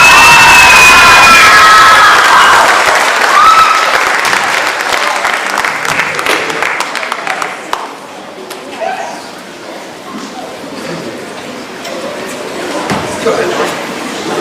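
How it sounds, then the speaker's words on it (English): A lively audience at an outdoor fine arts festival applauds and cheers for the performers, with whoops and children's shouts; the loud ovation gradually thins into scattered claps and chatter. "Let's have a warm round of applause for the Silhouettes."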